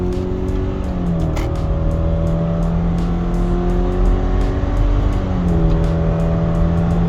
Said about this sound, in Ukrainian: Зараз дамо йому під хвоста і будемо розженятись від нуля до сотні.